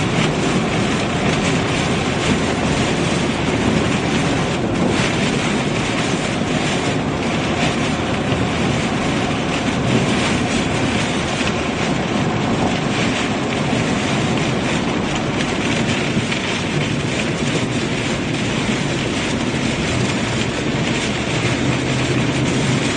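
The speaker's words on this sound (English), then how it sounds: "Here comes the wind again." Strong wind roars during a tornado storm in Illinois, a loud, dense, unbroken rush buffeting the microphone for over twenty seconds with no pauses and no voices.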